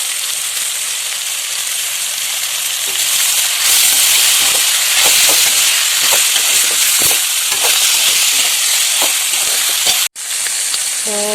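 Raw marinated chicken pieces hit a hot spiced pan for a chicken fry and sizzle loudly and steadily, with occasional stirring clatters and a brief drop in the hiss near the end.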